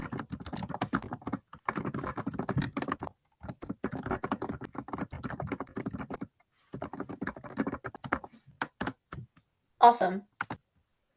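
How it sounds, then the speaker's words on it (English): Rapid clicking on a computer keyboard during a speech and debate extemp final round, continuous bursts of keystrokes with brief pauses, close and clear, with a short spoken word near the end. "let me just finish typing the question."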